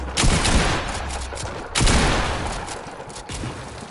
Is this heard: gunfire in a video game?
yes